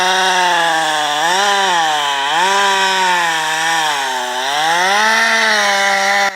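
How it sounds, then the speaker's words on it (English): A chainsaw runs loud and close while cutting into a dense tree trunk in a forest, its engine whining steadily and dipping in pitch as the blade bites, with no talk. "The sharp chainsaw screamed, its blade biting deep into the dense wood."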